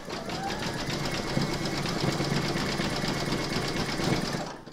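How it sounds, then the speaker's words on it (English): An embroidery sewing machine stitches one round of an in-the-hoop heart banner design, a fast, even mechanical chatter running steadily throughout with no talking. "You're going to pop this into your machine and stitch round number 8."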